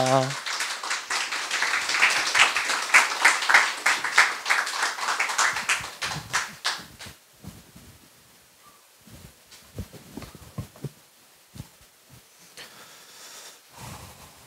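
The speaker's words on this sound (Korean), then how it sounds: "우리 나오실 때 뜨거운 박수로 환영하도록 하겠습니다." Church congregation applauding to welcome arriving missionaries at a tenth-anniversary revival service, dense clapping for the first half that thins into scattered claps, with talk and murmuring in the room.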